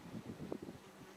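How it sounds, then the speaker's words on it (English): A bee buzzes close to the camera outdoors, a brief fluttering hum that swells and fades amid light wind noise. "bee checking out my camera"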